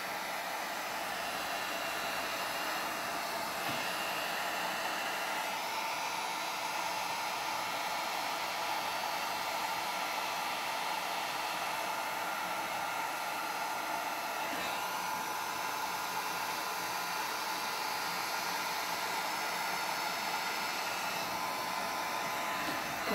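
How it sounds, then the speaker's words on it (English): A heat gun blows steadily on an alcohol ink and epoxy coffee tumbler, an unbroken loud rushing hiss of hot air lasting over twenty seconds, close and alone with no voices. "I'm going to apply a little bit of heat with my heat gun."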